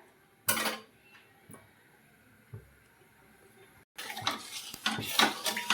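Guava jelly with melting sugar being stirred in a pan on low heat: a couple of isolated scrapes and clinks, then a denser stretch of continuous scraping and stirring, close, without talking.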